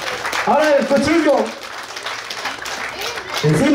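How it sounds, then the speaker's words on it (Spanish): Guests clapping at a birthday party in Reyes Nopala, scattered applause running beneath loud, excited talking and calls throughout. "¡Fuerte los aplausos!"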